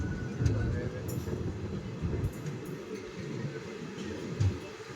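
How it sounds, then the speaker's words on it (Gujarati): A passenger train pulls away from Chital railway station with a steady, low rumble of wagons nearby, and faint voices come through now and then. "ટ્રેન ઉપડી ગઈ છે"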